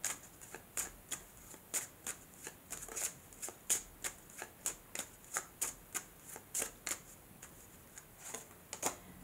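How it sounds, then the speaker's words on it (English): A Lenormand deck being shuffled, with a steady run of crisp, evenly spaced card snaps and riffles, close and fairly quiet, with no talking. "And let me add a Lenormand card for April."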